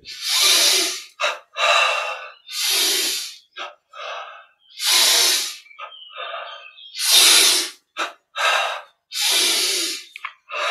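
Slow, deep breaths in and out during a yoga exercise, loud and close, with each breath a long airy rush separated by short pauses, alone and without talk.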